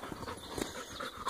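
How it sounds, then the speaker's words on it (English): A dog pants quickly and steadily nearby while exploring an old abandoned mine site littered with trash and scrap metal, the soft rhythmic breaths faint against a quiet background. "That's the dog panting like that."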